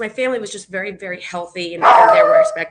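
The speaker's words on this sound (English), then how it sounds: "Sorry for the dog." A small dog yips and barks repeatedly in the background of a talk-show conversation, short sharp barks and a whimpering cry mixed in under a woman's steady speech.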